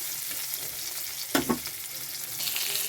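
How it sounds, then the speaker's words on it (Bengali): Spring-onion bulbs and chillies sizzle steadily in hot oil in a karahi wok, with a sharp burst of utensil scraping midway and the frying hiss growing louder toward the end. "এইভাবে পেঁয়াজটা ভেজে নিচ্ছি।"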